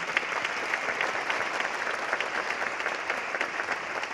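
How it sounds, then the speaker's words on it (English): A choir concert audience gives a steady round of applause, dense overlapping claps sustained at an even level throughout. "Give her a round of applause."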